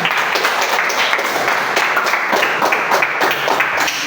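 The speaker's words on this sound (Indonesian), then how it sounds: "tepuk tangan untuk kelompok Ar-Rahman" Classroom applause for a participant group during a teacher-training lesson session, loud, continuous clapping from many hands close by, steady throughout with no voices over it.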